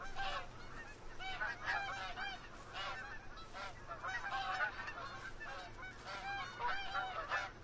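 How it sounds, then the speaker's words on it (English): A flock of geese honks steadily in the Call of the Wild hunting game, many overlapping calls at moderate distance with no voices. "Alright, there's goose on. They're in here. Or I can hear them."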